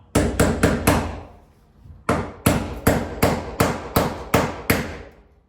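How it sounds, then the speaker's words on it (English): Sharp metal hammer strikes ring out close by as a rusty Jeep Wrangler door pin is driven: four quick blows, a pause, then a steady series of about eight more. "you grab a hammer and you hammer this on"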